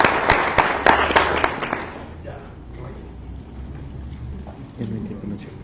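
Applause from a conference audience at an anti-corruption panel, a burst of dense clapping that fades after about two seconds into a quiet room murmur.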